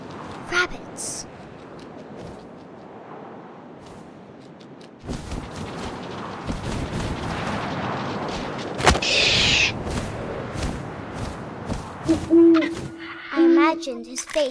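Owl hooting in the video game What Remains of Edith Finch, set among game ambience with wind and soft rustling, a couple of hoots rising out of a busy mix as a narrator speaks throughout.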